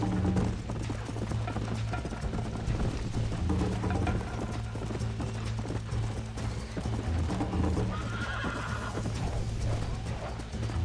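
In the Red Dead Redemption video game, a horse whinnies and gallops with continuous clip-clop hoofbeats over a steady low rumble of game sound, holding at moderate loudness throughout.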